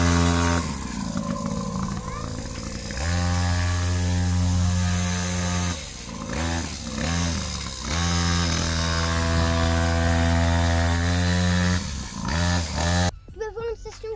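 A new quad bike starting for the first time, its engine running loud and close with a steady buzzing drone that rises and falls in revs, cutting briefly a few times.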